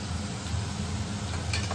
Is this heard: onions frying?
yes